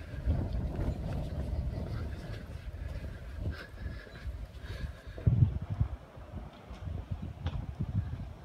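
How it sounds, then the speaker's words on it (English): Gusty outdoor wind buffets the microphone in an uneven, low rumbling roar, swelling and easing through the whole stretch, with a stronger burst near the middle. "I should have earbuds in because the wind kicking up"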